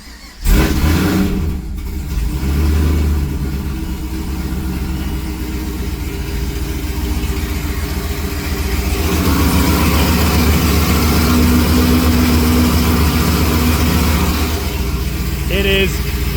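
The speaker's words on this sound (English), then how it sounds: "we're about to fire up the straight pipe Caprice because I need to do some tuning." A straight-piped Chevrolet Caprice PPV police-package sedan cold-starts with a sudden loud bark, then runs at a steady, harsh, droning idle that grows louder and rougher later on. Speech is mixed in under the engine.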